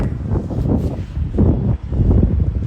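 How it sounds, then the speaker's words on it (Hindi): Steady broadband wind blowing across a rooftop, a continuous loud rush with gusty swells and a brief dip midway, no talking. "क्या ही खूबसूरत हवा चल रही है।"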